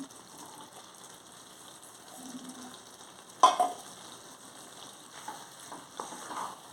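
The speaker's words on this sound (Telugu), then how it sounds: "ఇప్పుడు రొయ్యలు వేసేసుకుంటున్నాను వేపుకున్న రొయ్యలు వేసేసుకుంటున్నాను" Fried prawns tipped into a village-style brinjal and drumstick curry in a pan, a soft simmering sizzle broken by a sharp clatter as they drop in, then light stirring scrapes.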